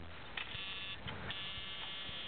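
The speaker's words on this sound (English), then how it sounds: "Got that nice scary door buzzer" Steady electronic door chime buzzer in a 1990 Jeep Cherokee Sport, a continuous buzzing tone that pulses faintly, heard up close inside the cabin with a low rumble underneath.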